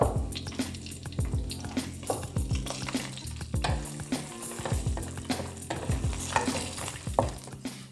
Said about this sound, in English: Last goes the makhanas into it.